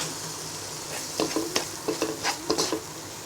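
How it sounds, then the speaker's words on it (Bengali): Tuna and spices sautéing in a pan while being stirred, a low sizzle under a quick run of spoon scrapes and taps against the pan, close and quiet. "টুনা ফিশ এবং মশলাটাকে কষিয়ে নিব"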